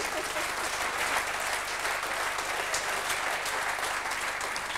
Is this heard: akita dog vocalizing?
no